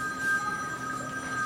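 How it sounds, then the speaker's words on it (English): A telephone rings in a classroom with a steady, continuous electronic tone, clear and moderately loud over a faint room hum. "That's a phone call, but I can't answer that because I'm in class."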